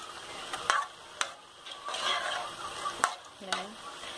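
A spoon scrapes and stirs through chicken stroganoff simmering with cream in a pan, with soft sizzling, several sharp clinks against the pan's side, and a brief light tone near the end.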